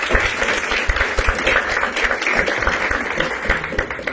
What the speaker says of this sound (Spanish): Quiero que le demos la bienvenida y un aplauso para Silvia Cañete